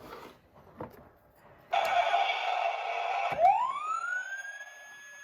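A toy police car siren switches on abruptly and wails loudly, a rising electronic tone that sweeps upward and holds, fairly close and alone without talk.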